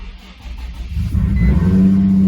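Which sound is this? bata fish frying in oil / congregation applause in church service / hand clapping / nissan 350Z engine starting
nissan 350Z engine starting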